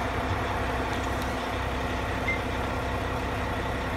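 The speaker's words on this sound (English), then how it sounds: "So it may idle a little rough for a second or two." A freshly started engine idles after an oil filter change and bypass filter refresh, a steady low rumble with a slight unevenness and no talking over it.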